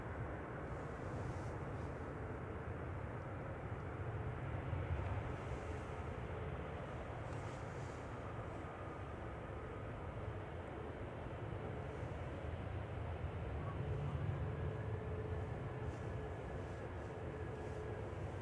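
A Jet2 airliner, registration G-TAWW on flight 253 from Luxor, Egypt, arriving at Manchester Airport: a steady, continuous engine roar holds at an even level throughout, with no talking.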